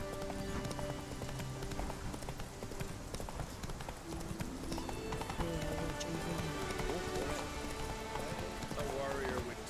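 A horse gallops in The Witcher 3 with a steady, rhythmic clip-clop of hooves under a constant rain-like patter, accompanied by layered game music and ambience throughout.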